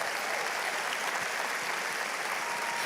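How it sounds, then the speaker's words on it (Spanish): A church congregation claps together in a dense, steady burst of applause that fills the room at an even loudness throughout, with no voices standing out. "Si le puedes dar ese aplauso, dáselo más fuerte."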